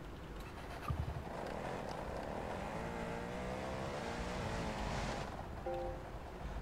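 Engine of a motorbike in an open-world video game, a steady droning hum that holds throughout at moderate level, with a brief thump near the start and a short tonal blip toward the end.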